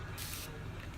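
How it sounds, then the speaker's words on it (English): A Morphe Continuous Setting Spray gives a brief, quiet hiss of fine mist lasting under half a second, with nothing else heard. "when I spray this on"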